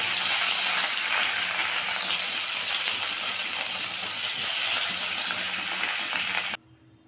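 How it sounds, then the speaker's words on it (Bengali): Taki fish sizzling loudly in hot oil in a pan, a steady broadband crackle and hiss that runs unbroken for most of the stretch, close and alone, then cuts off abruptly near the end. "তো তেলটা গরম হয়ে গেছে, এখন আমি মাছগুলো ভেজে নেব।"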